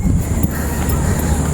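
Steady wind rushing across the microphone, a continuous low rumble and hiss with no clear breaks.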